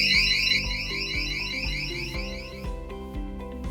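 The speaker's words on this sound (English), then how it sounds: "And this is the alarm features." An access control system alarm sounds a rapid, warbling electronic tone that repeats steadily over background music, then cuts out about two-thirds of the way through.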